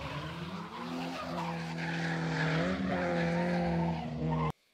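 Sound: car tires skidding in a 180-degree drift

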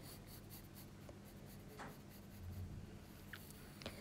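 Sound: pencil sketching insect wing on paper

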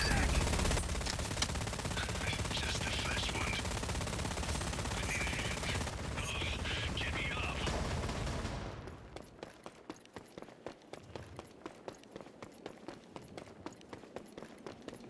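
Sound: gunfire in a video game

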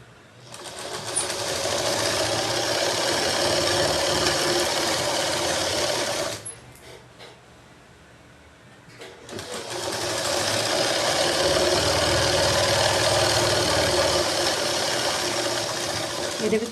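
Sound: sewing machine stitching a straight seam on double cloth

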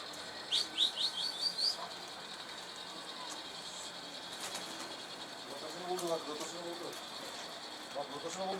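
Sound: bird chirping, a fancier's pigeon flying off

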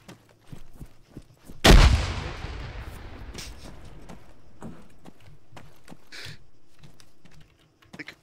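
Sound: grenade explosion in a video game

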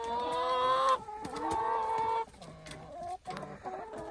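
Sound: chickens clucking

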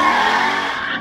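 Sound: Chrysler 300C car launching with tire squeal

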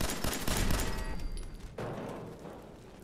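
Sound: turret gunfire in the video game Fallout 4

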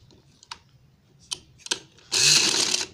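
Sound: sewing machine stitching maroon strips onto fabric

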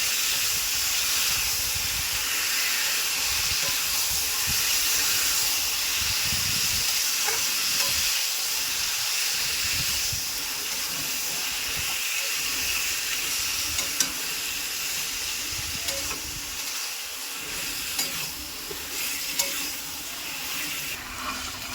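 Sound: frying taro stems and greens with spices

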